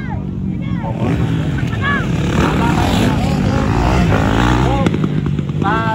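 A motorcycle engine revs loudly and close, its pitch rising and falling in repeated sweeps, with voices and crowd noise mixed in underneath.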